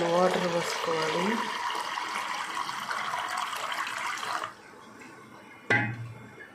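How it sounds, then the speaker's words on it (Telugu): Drinking water poured into a pot of toor dal, a continuous fill of running water under a speaking voice that cuts off partway, followed by a brief splash. "దీంట్లో మంచినీళ్ళు వాటర్ పోసుకోవాలి."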